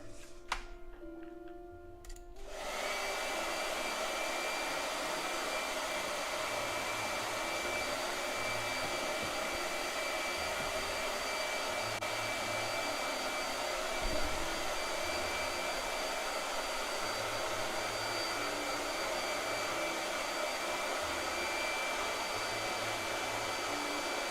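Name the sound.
blow dryer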